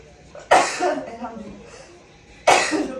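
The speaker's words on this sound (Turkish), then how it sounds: "Şey hapşıracağım." Two sharp sneezes about two seconds apart, close and loud, with brief vocal sounds between them.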